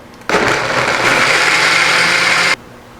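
A blender blending blueberries whirs loudly for about two seconds, starting and stopping abruptly, with a steady high-pitched motor roar.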